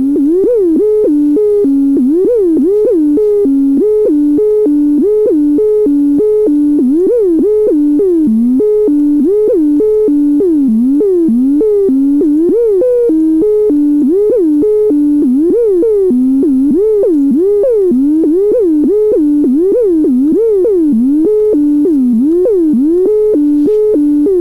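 A synth oscillator modulated by a voltage controlled all pass filter, giving a loud, continuous tone whose pitch wobbles and sweeps in quick repeating patterns for the whole stretch, with nothing else over it.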